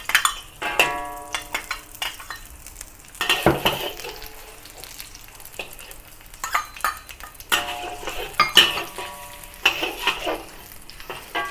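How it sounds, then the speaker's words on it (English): Garlic and ginger frying in hot oil in a wok for a Thai-style spicy chicken stir-fry, a steady sizzle broken by repeated scraping and clattering strokes of a utensil against the pan, close and fairly loud, with no talking. "Heat some more oil in the wok to saute the garlic and ginger."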